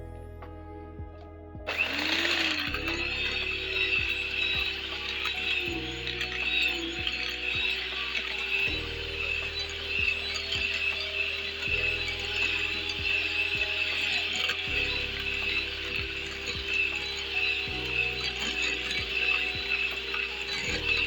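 Cupcake batter being beaten in a bowl: a steady, loud mechanical whirring starts abruptly after about two seconds and runs continuously to the end, with a faint rhythmic, ratchet-like pulsing.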